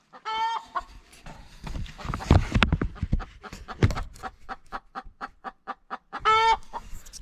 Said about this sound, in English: Sounds like my chickens are laying another egg.